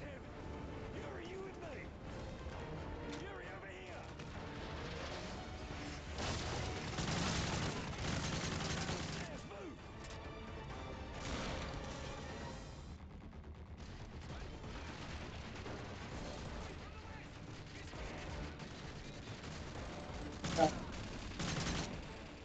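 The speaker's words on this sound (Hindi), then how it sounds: "friendly fire" Dense bursts of gunfire in Call of Duty Modern Warfare 3 hit friendly troops during a submarine mission, with rattling automatic fire and booms layered over a busy game mix and a player's voice.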